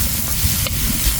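Onions hit a hot pan and sizzle loudly and steadily at close range, with a brief stir partway through and no voices.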